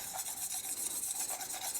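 Spaghetti squash and shrimp are stirred together with parmesan cheese, giving a soft, close, continuous scraping and rubbing rhythm with no talk.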